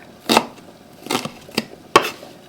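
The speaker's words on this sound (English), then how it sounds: "I'll just go ahead and chop up my shallot" Four sharp knife chops through a shallot on a cutting board, irregularly spaced, close and crisp against a quiet background.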